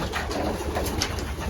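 Pigeon cooing, soft rounded coos close by amid a busy bird loft background, brief and unaccompanied by talk.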